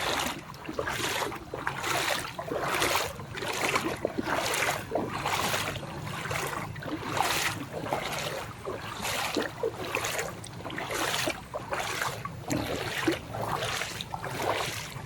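Floodwater overflowing from a canal behind a rubber plantation spills toward a road during a second flood in Thailand, a steady, loud rushing wash with regular surging pulses throughout.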